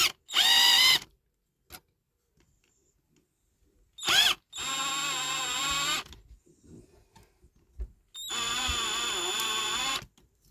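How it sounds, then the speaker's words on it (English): An electric drill bores out plastic on a diecast Majorette Toyota Land Cruiser J40 toy car. It comes in three loud whirring bursts, the later two running a couple of seconds each, with near silence and small handling clicks in between. "It's only plastic, so we can drill that out."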